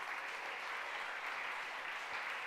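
An audience at a Tamil event in Chennai claps steadily together, a dense, even stretch of applause heard alone without speech.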